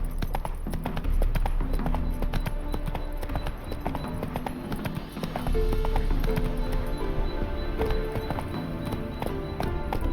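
Roach, a horse in The Witcher 3, gallops with rapid, loud, rhythmic hoofbeats that run continuously over background game music.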